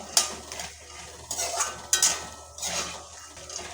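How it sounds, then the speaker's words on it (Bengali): Fried peanuts lifted out of hot oil in a pan with a metal spoon, giving sharp clinks and scrapes against the pan over a soft sizzle, several distinct strokes close by. "ভালো করে তেল ঝরিয়ে বাদামটা তুলে নেব"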